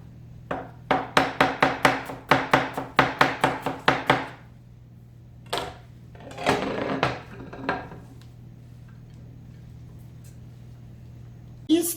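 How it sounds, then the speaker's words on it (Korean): Knife thinly slicing onion for a Korean restaurant-style onion sauce, a fast rhythmic run of about fifteen sharp, close chopping strikes on a board, then a few scattered cuts with a steady hum behind. "이렇게 얇게 양파를 썰면은"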